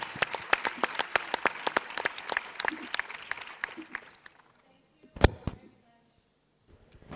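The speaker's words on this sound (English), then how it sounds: "A round of applause for Mr. Lee Junwa, please, ladies and gentlemen, your excellencies." An audience at a UN Water conference preparatory meeting in Dakar applauds with brisk, sharp claps that thin out and stop after about four seconds, followed by a few isolated knocks in near silence.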